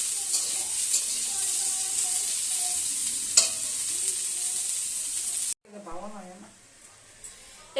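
Cauliflower, beans and carrots frying together in a pan give a steady close sizzle with stirring scrapes for about five seconds, then it drops away as a voice speaks briefly over faint residual hiss.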